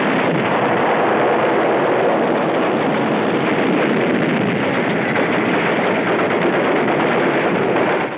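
Enemy gunfire and artillery from a 1944 wartime newsreel of the Marines at Tarawa, a dense continuous roar of rapid fire and blasts on an old, band-limited soundtrack, loud throughout with no speech.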